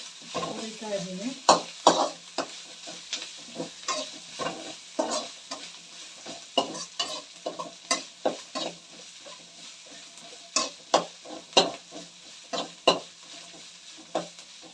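Egg rice is fried and stirred in a pan, with a soft continuous sizzle broken by repeated sharp scrapes and clinks of the spatula against the metal, close and irregular in rhythm, and no one talking.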